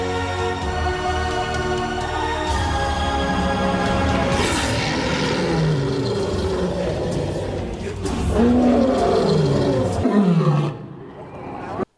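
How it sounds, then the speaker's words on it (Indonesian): A lion roars loudly in long, deep, rumbling calls that rise and then fall away. The roars follow one another over several seconds before fading, with no talk over them. "itu adalah singa ketika dia mengaum"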